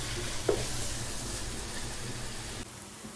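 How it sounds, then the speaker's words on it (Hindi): Sliced onions with turmeric frying in oil in a pan for bhindi pyaz sabzi, giving a dense, even sizzle close by with a single small clink early on and no voice. "हल्दी को मैं प्याज में भून लूं"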